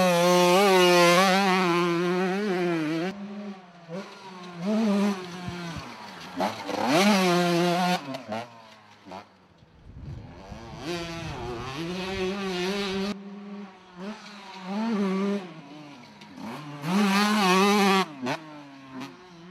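A 1989 Honda CR125 Mugen two-stroke motocross bike revs hard and loud, rising and falling through repeated throttle bursts with brief lulls between, close and continuous.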